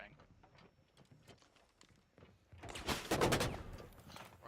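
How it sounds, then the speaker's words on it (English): A flashbang grenade going off in a Rainbow Six Siege match, a sudden loud burst of noise with crackling gunfire-like bursts following quieter in-game footsteps and clatter. "that's gonna be a flashbang"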